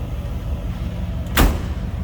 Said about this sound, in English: How that door closes.